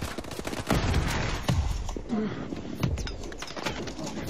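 A pump shotgun fires in Call of Duty Advanced Warfare on Xbox 360, a few heavy blasts spaced apart amid dense, noisy game ambience.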